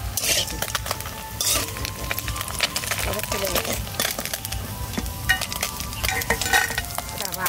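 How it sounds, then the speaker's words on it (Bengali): Khoira fish from a village pond crackles and sizzles crisply in hot oil, with utensils clinking and scraping against the pan throughout and a voice talking over the frying. "আওয়াজ হচ্ছে কিরকম মাছ ভাজার।"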